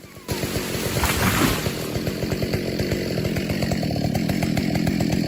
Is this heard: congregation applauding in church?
no